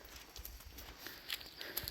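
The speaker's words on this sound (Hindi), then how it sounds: "देखो यहाँ पे बहुत सारे गाय बैल आ गए हैं, बकरी हैं। मैया में जल पीना है इनको, तो आ गए।" Cattle, bulls and goats walk down to drink at the Narmada river, their hooves making soft, irregular clopping steps on the bank amid open-air ambience.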